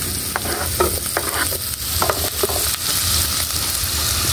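Onion and garlic fry in a pan while being stirred, with scraping strokes over a dense, steady sizzle heard close up.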